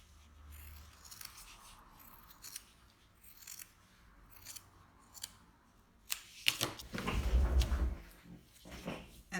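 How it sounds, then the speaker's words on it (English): Scissors snip through fabric to trim a sewn seam allowance, with a scattering of soft separate cuts followed by a louder, denser burst of rapid snipping and rubbing close to the mic. "Trim the seam allowance."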